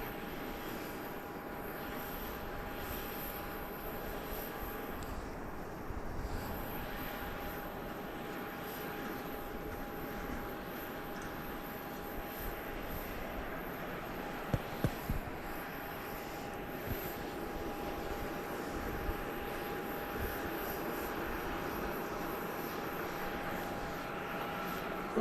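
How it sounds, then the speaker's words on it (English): A Gulfstream G650 business jet takes off from Dallas Love Field, giving a steady, sustained engine roar that holds at an even level throughout, with no talk over it. "So appears to be a Gulfstream G650 by FlexJet."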